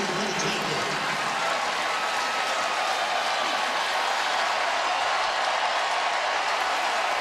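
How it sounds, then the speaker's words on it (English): A stadium crowd at a Clemson football game against Georgia Tech gives a steady, broad roar of cheering and applause that holds at an even level throughout, distant and wash-like, with no clear voices standing out. "The crowd comes to its feet here at Clemson."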